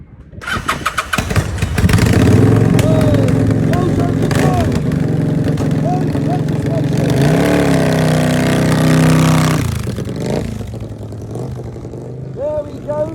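A motorbike engine starting and running after petrol has been transferred into it, loud and close, catching quickly and then holding a steady rumbling idle with a few revs before the sound thins out near the end.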